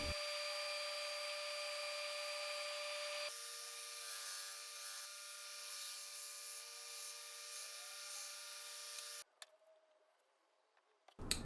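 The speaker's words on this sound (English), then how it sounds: "Here I am rounding over the corners of some cross pieces that I'm going to glue to the backs of a couple of the shelves" A power tool rounds over the corners of wooden cross pieces for library bookshelves, giving off a steady, loud, high-pitched whine that shifts slightly as it cuts, then winds down near the end, leaving a faint rustle.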